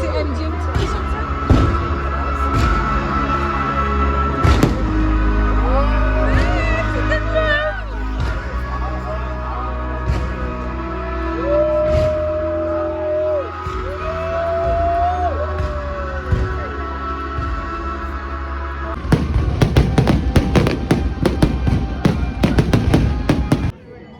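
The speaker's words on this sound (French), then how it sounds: "c'est une dinguerie qu'on ait fait des feux d'artifice" Fireworks burst over Bogliasco, Italy, with repeated sharp bangs and crackles, thinning out mid-way, then a dense cluster of rapid explosions near the end, all under loud music with singing and nearby voices.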